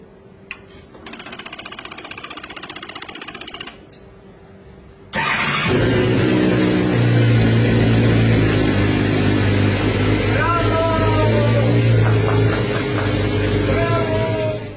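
A Hyper Racer X1 formula race car engine with a Suzuki loom cranks briefly, pauses, then fires and settles into a loud, steady running roar with rising revs, close and alone.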